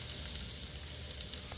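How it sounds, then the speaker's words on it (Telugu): Ridge gourd peels fry in hot oil in a pan, giving a steady close sizzle with crackling bubbles that cuts off abruptly at the end. "ఇప్పుడు ఇవి నూనెలో వేసుకుందాం"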